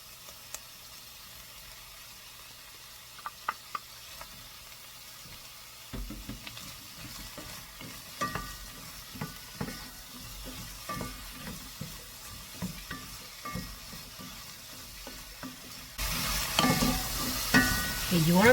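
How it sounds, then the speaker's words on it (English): Onions and shallot sauté in a pan with a steady low sizzle and scattered scraping stirs, growing into a louder, denser hiss near the end; no voices. "you want to make sure the onions are well sauteed."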